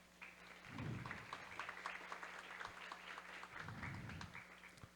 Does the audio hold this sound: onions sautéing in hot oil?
no